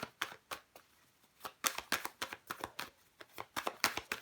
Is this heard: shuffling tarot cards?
yes